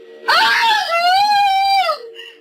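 A woman's scream in a Spanish radio drama, rising sharply then held as a long, loud, strained cry for about two seconds before cutting off, alone with no talk over it.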